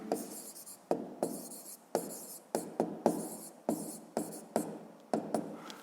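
A pen scratches across paper during a fifth-grade math exercise, a faint, close sequence of short writing strokes in an uneven rhythm of about ten bursts, each fading quickly.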